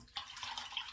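A brief, soft splash and trickle of water into shaving soap lather, close and quiet, lasting about a second.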